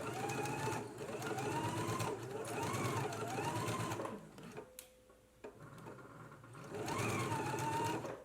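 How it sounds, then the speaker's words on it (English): A sewing machine stitches a dress seam at a 5/8 inch allowance, running in steady rhythmic bursts with a short pause and faint clicks midway before resuming, close and without talk. "Now let's go ahead and stitch using a 5/8 of an inch seam allowance."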